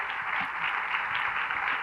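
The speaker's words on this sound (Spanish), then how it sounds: "Dele un aplauso al Señor" A church congregation applauds the Lord during a 1993 Spanish-language sermon, with a dense, steady wash of clapping from many hands, heard at moderate distance and without talk.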